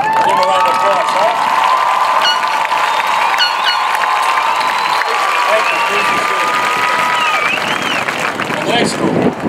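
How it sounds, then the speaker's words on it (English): Graduation ceremony audience applauding and cheering for graduates bound for four-year or two-year colleges, a dense, steady roar of clapping with whoops and shouts sustained throughout, loud and close. "Give them a round of applause, huh?"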